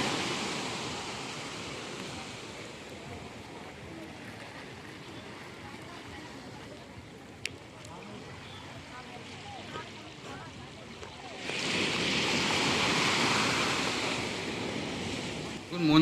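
Ocean surf rolling in at high tide, a steady broadband wash with wind noise on the microphone, swelling noticeably louder in the last few seconds as a bigger wave breaks close by.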